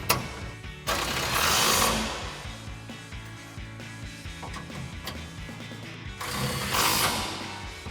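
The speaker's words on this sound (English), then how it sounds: "grab your impact and 15mm socket and tighten them down" Impact wrench with a 15mm socket driving steel bumper bolts on a 2009-2018 RAM 1500, heard as three loud bursts of rattling hammering separated by softer mechanical clatter.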